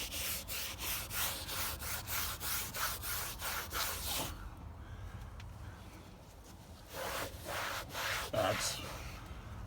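Rhythmic back-and-forth scrubbing with a magic eraser and soapy water on the dusty interior of a 1979 Ford F150, close and steady for about four seconds, then scattered rubbing strokes after a quieter gap.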